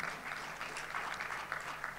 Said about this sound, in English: Give a round of applause to Mr.